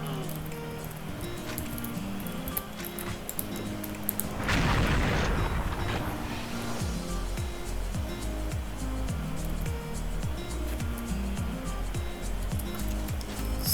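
A bomb blast in the shooter game Xshot bursts out once as a loud, rumbling boom midway, set over continuous game music and effects.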